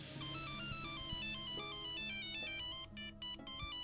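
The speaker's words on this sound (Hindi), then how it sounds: "ये फोन काड़ी मुड़ी बज रहा है, किसका है?" A phone ringtone plays a repeating melodic electronic tune, loud and close, cycling through its short phrase several times with no talking over it.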